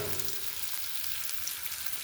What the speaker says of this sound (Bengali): এবার ভেজে নেবো এগুলো